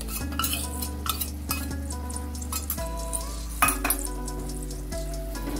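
Fresh turmeric curry with yogurt sizzles in a pan while a spoon stirs it, giving a steady frying hiss broken by scraping strokes and light metallic clinks against the pan.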